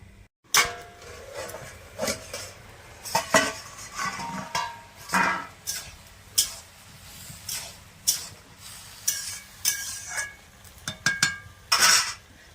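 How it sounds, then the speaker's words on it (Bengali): Moong dal being washed by hand in a bowl, with repeated rhythmic swishing and clattering of grains and water against the vessel, close and fairly loud, in irregular bursts. "এবারে মুগ গলাইগুলো ভালো করে ধুয়ে নেবো"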